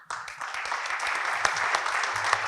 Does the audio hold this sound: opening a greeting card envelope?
no